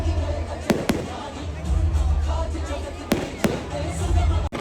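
Firecrackers and fireworks at an outdoor Dussehra celebration with an effigy burning pop in several sharp, separate bangs over a steady crowd rumble, with someone talking throughout.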